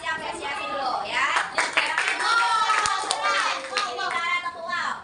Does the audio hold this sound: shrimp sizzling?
no